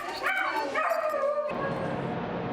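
A little dog yips and whimpers in a quick burst of high, close barks, then the sound gives way to a noisy background wash.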